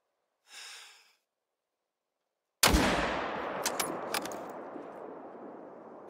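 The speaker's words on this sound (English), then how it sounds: "That should have been a good shot. Love the 30-odd six." A .30-06 hunting rifle fires once in theHunter: Call of the Wild, a loud sharp crack followed by a long rolling echo that slowly fades, after a brief soft breath and a short silence.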